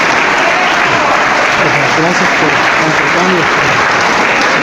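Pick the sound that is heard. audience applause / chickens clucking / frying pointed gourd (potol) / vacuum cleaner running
audience applause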